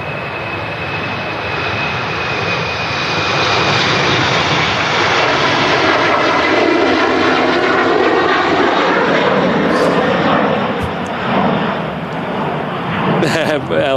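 A TAP Express jet taxiing at Manchester Airport gives off a loud, sustained engine roar with a rising whine and sweeping tonal bands as it passes close by, while people talk over it.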